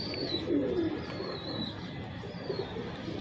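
Breeder pigeons cooing in a loft, soft low coos repeating a few times at close range over a quiet background, with faint chirps from other birds.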